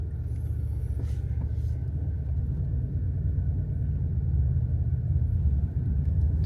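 A 2025 Bentley Continental GT Speed First Edition turns a full circle on a narrow road, with a steady low engine rumble and road noise from inside the cabin that hold even throughout, no talk.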